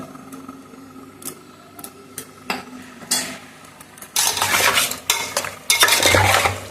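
Meat for bhapa biryani being mixed with turmeric and mustard oil in a metal bowl, with scattered sharp clinks and taps at first, then louder, rougher bursts of squelching and scraping as the mixing speeds up; no talking.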